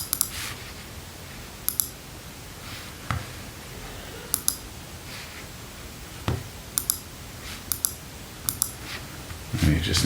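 A computer mouse clicking to switch the view, a handful of sharp, scattered clicks spaced a second or two apart over quiet room noise.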